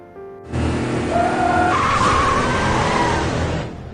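Cars skid during a chase in the rain, giving a long loud tire squeal over roaring engines that holds for about three seconds and then fades.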